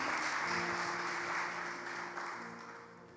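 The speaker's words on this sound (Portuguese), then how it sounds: "Pode aplaudir ao Senhor, vamos lá." A church congregation applauds steadily, a dense wash of clapping that stays fairly loud and slowly tapers toward the end, with faint tones and indistinct voices underneath.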